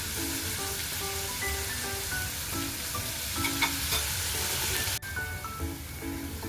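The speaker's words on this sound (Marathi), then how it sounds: "कांद्याचा कलर चेंज होईपर्यंत आपल्याला कांदा होऊ द्यायचा आहे। कांदा आपल्याला ब्राऊन करून घ्यायचा आहे छान" Chopped onion sizzles and fries steadily in a pan on the stove as it browns for a tomato curry, a continuous crackling hiss with a short clatter partway through.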